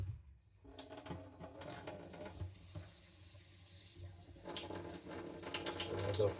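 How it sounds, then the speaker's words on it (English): Water is dripped onto a Japanese natural sharpening stone to work up a slurry. Soft, close splashes and trickles sit over a faint hiss, with occasional light taps and scrapes. "Add a few drops of water and just center that slurry."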